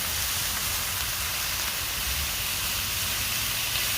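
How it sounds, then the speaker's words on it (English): Bacon and onions sizzling on a hot griddle for smash burgers, a dense continuous hiss and crackle holding steady and loud throughout, close up with no talking. "as the bacon cooks, I'm just going to keep moving it"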